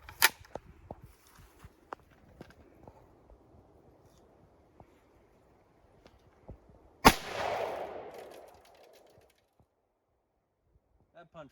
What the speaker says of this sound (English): We're shooting out of my nice AR-15.